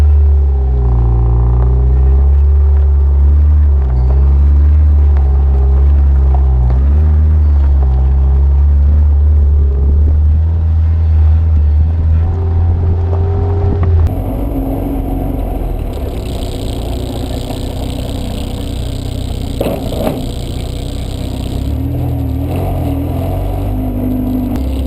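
A Honda Civic wagon with a DOHC ZC engine, fitted with winter tires, drives and revs through gears with a loud, close engine rumble, then settles into steady road and wind noise from inside the car.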